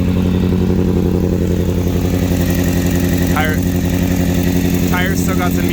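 Custom Suzuki Bandit 600 motorcycle engine idling close and loud, a steady even rumbling pulse throughout, with a few brief high chirping sounds over it toward the end.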